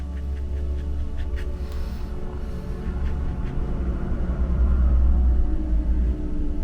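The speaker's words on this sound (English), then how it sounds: "even the cars outside are adding sound effects to the painting here" Cars passing outside a room during a watercolor painting session: a steady low rumble of traffic that swells slightly toward the end, heard at a distance with faint small scratchy sounds nearby.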